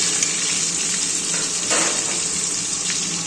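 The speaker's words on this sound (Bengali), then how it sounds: "পনিরগুলো ভাজছি" Pieces of paneer frying in hot oil make a loud, constant sizzle, with a brief surge of crackling partway through.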